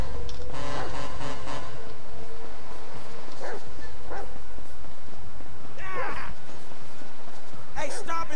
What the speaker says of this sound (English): Come on, Chop. Come on. Go bite his ass